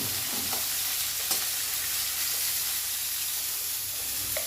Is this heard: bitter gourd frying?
yes